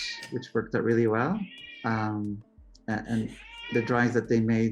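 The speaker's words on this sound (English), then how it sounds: "he's a whining cat" A house cat meows and whines in the background, repeated drawn-out cries threaded between and under a person talking in the foreground.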